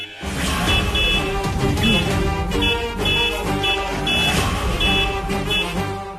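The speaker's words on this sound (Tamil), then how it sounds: "யார ஹார்ன் அடிச்சிட்டு இருக்கிறது?" Repeated vehicle horn blasts in short bursts over a busy, noisy street background, loud and close.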